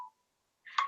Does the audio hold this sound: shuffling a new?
no